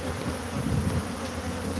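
Swarm of Africanized bees drones in a dense, steady buzz, loud and close throughout with no pauses.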